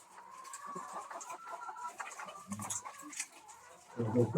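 Loman breed laying hens cluck in scattered bursts among a busy background of bird calls, with a louder, closer flurry of clucking near the end.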